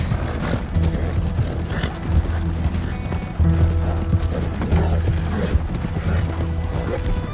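A horse gallops steadily in Red Dead Redemption 2, hooves drumming close and loud with creaking tack and mechanical rattle, a brief whinny in places, almost no talk over it.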